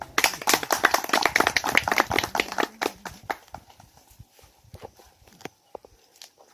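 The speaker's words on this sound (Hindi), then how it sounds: "महान हस्तियों का स्वागत करें जोरदार तालियों के संग" At an outdoor Van Mahotsav tree-planting gathering held by a village assembly in Nainital, Uttarakhand, an audience claps to welcome guests. A brisk burst of clapping fades after about three seconds into a few scattered, separate claps.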